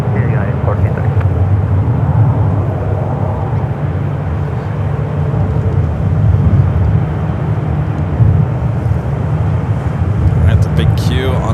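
An airliner moves on the ground at San Francisco airport, giving a steady low rumble of engine noise throughout, with talking over it.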